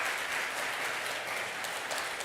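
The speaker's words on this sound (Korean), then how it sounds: "환영의 박수 드리겠습니다" A church congregation at a Sunday service claps in welcome for visiting family members, with steady, dense applause from many hands throughout.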